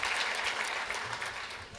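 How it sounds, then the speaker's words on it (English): A short burst of audience applause at a business conference after a live demo, a steady crowd of clapping hands at moderate distance with no speech. "can we just do one more round of applause for doing, they did a live demo"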